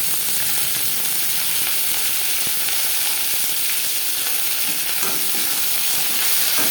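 Bottle gourd greens and stems frying with garlic and chilli in a pan, a loud, steady sizzle with occasional scraping stir strokes close by, no talking.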